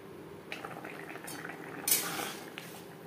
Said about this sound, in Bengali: গ্রেভির সাথে আলু বেশ ভালো করে মিক্স করে দেবো। আলু সেদ্ধ হওয়া পর্যন্ত অপেক্ষা করব।